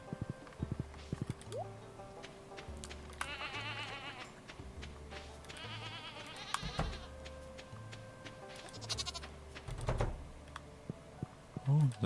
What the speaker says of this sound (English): let's go and speak to the goats.